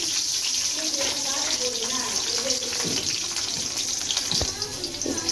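Mustard, cumin and fenugreek seeds splutter in hot oil in a home kitchen, a continuous hiss with scattered small pops and crackles.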